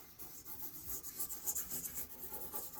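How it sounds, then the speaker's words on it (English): Soft, continuous scratchy rubbing of a charcoal pencil across paper, close by, with short strokes and light shading textures, no voices. "then I highlight the features of the face with my charcoal pencils"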